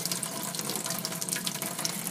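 Hot water running steadily from a tap into a sink while dyed raw wool is rinsed by hand, a continuous close splashing hiss with no voices.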